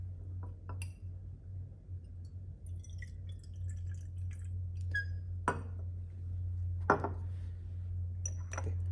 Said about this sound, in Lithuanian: Kad cukrus nepriliptų prie kolbos dugno, įpilam šiek tiek vandens.